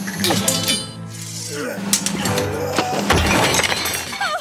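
Glass and crockery shatter in a loud crash, with clinking pieces scattering amid a busy scuffle and raised voices, as a table of dishes is trampled during a fight in a cartoon.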